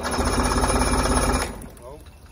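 An old boat's outboard engine cranks and sputters at half choke, a loud steady mechanical churn lasting about a second and a half before it cuts off abruptly, leaving faint background noise.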